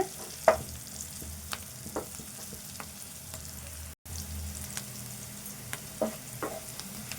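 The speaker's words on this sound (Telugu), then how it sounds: "ఉల్లిపాయ వేగేదాకా కలుపుకోవాలి దోరగా వేగాలి ఉల్లిపాయ" Onions frying in a pan with turmeric for green chilli chicken, stirred now and then: a quiet steady sizzle with occasional scraping taps of a spoon, no voices.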